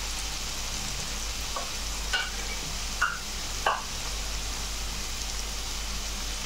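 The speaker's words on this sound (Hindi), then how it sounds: "प्याज टोमेटो मिक्स हो गए, अब हम ऐड करेंगे ginger garlic and chilli paste." Ginger, garlic and chili paste cooks into an onion and tomato mixture for tikka biryani, giving a steady, rain-like sizzle close by, with a few soft scraping stirs and no speech.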